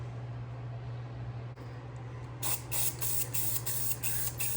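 Aerosol spray paint hisses in a rapid series of short bursts as a part is coated black, starting partway through after a steady low hum, close and fairly loud with no talking.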